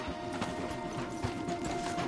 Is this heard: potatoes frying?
no